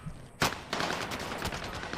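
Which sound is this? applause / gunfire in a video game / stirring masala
gunfire in a video game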